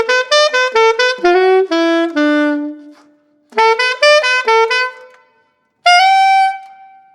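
Solo saxophone plays the high section of a song, a run of quick short notes followed by longer held tones in two phrases, with a pause before a final sustained note, loud and close with no talking.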